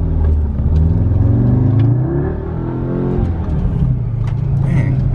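An Audi S3 8Y launches hard, its engine revving loud and near with a rising pitch that climbs through gears, a short dip between shifts, before pulling strongly again.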